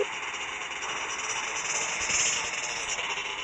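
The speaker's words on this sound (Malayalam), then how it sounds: "നമുക്കിന്ന് മോട്ടോർ ബൈക്ക് ഡ്രൈവ് ചെയ്ത് നോക്കാം" A motorbike engine idles in GTA Vice City played on Android, a steady mid-pitched mechanical drone with slight vibration, holding even and fairly loud throughout with no talking.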